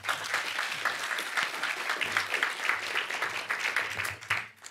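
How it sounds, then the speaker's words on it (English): Audience applause at a health innovators' summit session on localism initiatives, a steady round of clapping from a seated crowd lasting several seconds before tapering off at the end. "I think it's worth an applause"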